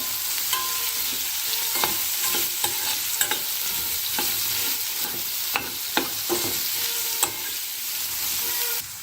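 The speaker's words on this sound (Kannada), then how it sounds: "ನನ್ನ ಎಣ್ಣೆಯಲ್ಲಿ ಚೆನ್ನಾಗಿ ಫ್ರೈ ಆಗಬೇಕು ಈ ಕ್ಯಾಪ್ಸಿಕಮ್" Capsicum fries in oil in a pan as it is stirred, a steady hissing sizzle broken by regular spoon scrapes and taps, close and moderately loud with no voices.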